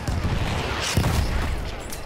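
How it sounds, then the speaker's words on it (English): Mortar shells exploding in the Battlefield 1 video game on the Argonne Forest map, a continuous rumbling barrage of booms and blasts close by, dense and loud throughout. "you're getting hit by mortars"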